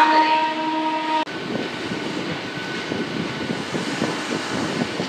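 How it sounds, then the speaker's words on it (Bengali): A local train pulls into Belur Math station, a steady low rumble and rolling rail noise that follows a sharp cut from an earlier tonal announcement, moderately loud with no talk. "ট্রেন চলে এসছে।"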